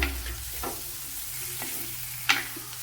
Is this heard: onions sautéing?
yes